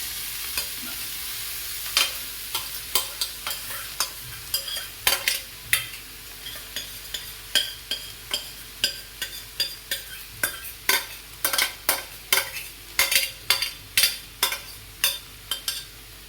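A utensil scrapes and taps against a pan in a steady stirring rhythm, mixing a spice tempering with cabbage and toor dal, with a soft sizzle underneath and no voices.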